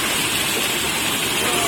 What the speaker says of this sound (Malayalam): ഇപ്പൊ ഞങ്ങൾക്കൊരു നല്ലൊരു അരുവി കിട്ടിയിട്ടുണ്ട്.